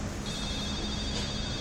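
A mobile phone rings out in the audience of a talk at an office event, a steady electronic ringtone tone held throughout at moderate level over room noise.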